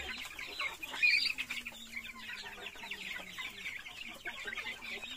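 Month-old Darag native chickens cluck and chirp softly in a pen, a busy overlapping chatter of small birds with one louder call near the start.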